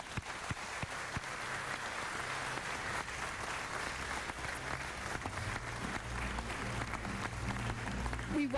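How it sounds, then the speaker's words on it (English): Sustained applause from an audience, a steady wash of many hands clapping heard from a distance, continuing throughout. "They deserve a warm round of applause."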